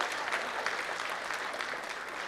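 An audience at the PEFA 2023 Punjabi entertainment awards in Chandigarh applauds a young comedian in a thick, continuous round of clapping at an even, loud level, with no voices over it.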